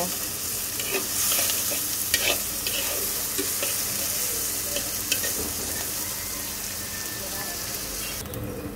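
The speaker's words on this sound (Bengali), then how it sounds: "পেঁয়াজটাকে একটু সুন্দর করে ভেজে তারপরে এর মধ্যে বাকি মশলাগুলো যেগুলো আমি দেব সেগুলো অ্যাড করব" Onions fry in a pan for a tengra fish dopeyaja, giving a dense, steady sizzle up close, with a spatula stirring and scraping now and then throughout.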